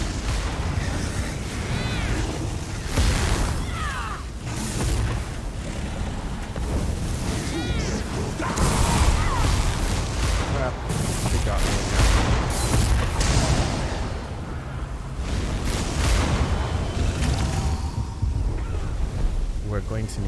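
Blast Bones skill explosions in Elder Scrolls Online go off as repeated loud booming bursts amid battle noise, with a voice talking over much of it.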